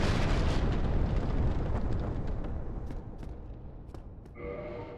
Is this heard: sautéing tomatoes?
no